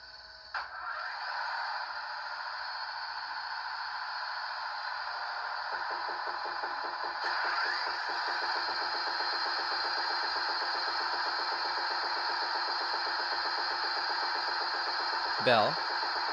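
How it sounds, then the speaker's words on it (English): A Rapido Canadian RDC model train's sound system runs through an engine start-up, cranking into a steady diesel idle with a faint rhythmic rattle and a constant electronic whine, fairly quiet and close. "Listening to the sounds, we have the engine start up"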